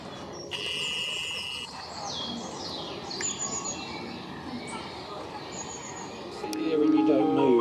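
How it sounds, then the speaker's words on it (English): Garden birds calling with several bright, high chirps and short trills over a steady outdoor background, fairly close and continuous. "Birds soon come back into the garden."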